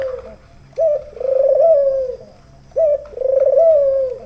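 A dove chick, a young hand-raised dove, gives two drawn-out cooing calls, each starting with a short note and then a longer wavering one, close and clear with a pause between them.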